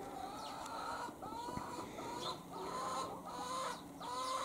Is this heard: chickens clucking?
yes